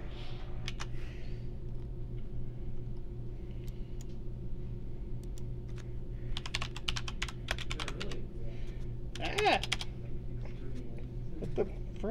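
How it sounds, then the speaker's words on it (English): Rapid, furious typing on a computer keyboard during a Rocket League esports match broadcast, with bursts of clicky keystrokes over a steady low room hum and faint background noise. "then you hear some furious typing"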